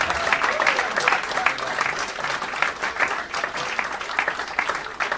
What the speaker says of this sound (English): All right, let's applaud.